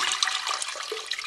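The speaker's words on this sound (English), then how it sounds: "I'm just going to add water to this to cover it." Water poured from a container into a cooking pot of corned beef makes a steady rushing, splashing gush for just over a second, with no talk.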